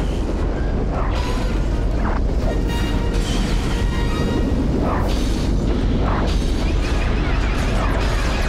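Continuous turret fire and booming explosions during a ship battle in a Lego Star Wars game, a loud, dense barrage with repeated blasts and mechanical clatter throughout.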